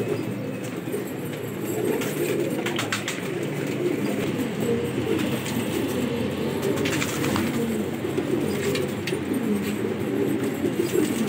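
Several gola pigeons coo softly and repeatedly on a rooftop, low rolling calls over steady background noise that lasts throughout, with no talk.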